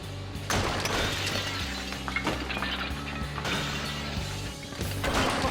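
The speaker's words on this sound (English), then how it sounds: "Now it's time to crush a bowling ball." A hydraulic press crushes a bowling ball: a loud, steady mechanical hum runs throughout, broken by several sharp cracking and crunching bursts.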